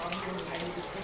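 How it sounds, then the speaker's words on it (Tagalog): Water runs steadily from a tap in a resort washroom, a continuous splashing rush close by, with a voice speaking over it. "Grabe ang abunda kay tubig."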